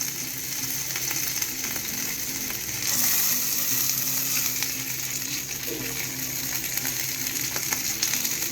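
A hamburger patty fries in a pan with a steady close sizzle and crackle running throughout, joined by occasional faint clicks and scrapes.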